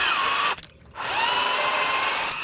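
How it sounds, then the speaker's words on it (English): A power drill bores holes in a mock-up wing mount for an Arrma Kraton 8S RC truck, a loud steady high whine running with a short pause near the half-second mark before resuming for the rest. "we can drill the rest of the holes fairly easily"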